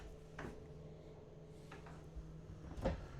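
Pull-out drawers in the kitchen of a 2025 Brinkley Model Z Air 295 RV slide and shut, giving three soft thumps spaced across a quiet room, the last the firmest.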